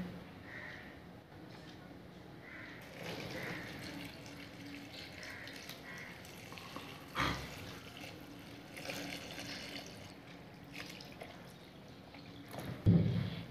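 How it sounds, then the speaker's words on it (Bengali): Tap water runs and pours into a container packed with onion peels, giving a steady, close splashing flow that shifts in tone as it fills, with a few louder knocks. "আমি এখানে জল দিয়ে দেব।"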